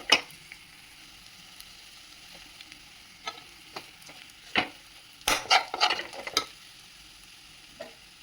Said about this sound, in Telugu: బాగా కలియబెట్టిన తర్వాత ఆల్రెడీ ఉల్లిపాయలు బాగా మగ్గిపోయినాయి కదండి